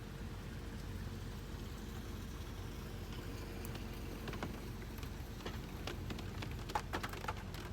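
Rain on a car in New England while driving, with a steady hiss of drops and road noise and scattered sharper taps toward the end; no voices.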